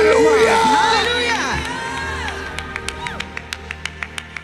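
Church congregation at an Easter service cheering and shouting over sung or spoken voices, followed by a steady series of sharp rhythmic claps or beats that continue to the end.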